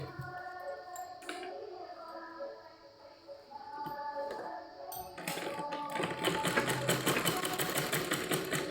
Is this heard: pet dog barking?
no